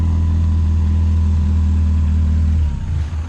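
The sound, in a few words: hot rod's 4-cylinder engine running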